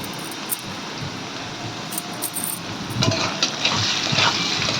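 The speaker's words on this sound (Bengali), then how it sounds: "এবার আলুটাকে আমি হালকাভাবে ফ্রাই করে নেব" Potatoes lightly frying in a pan with salt and turmeric: a steady, close sizzle and crackle like light rain, growing busier and louder partway through, with soft stirring scrapes.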